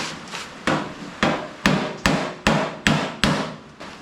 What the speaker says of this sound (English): Now that's the time when you want to use hammer on dolly.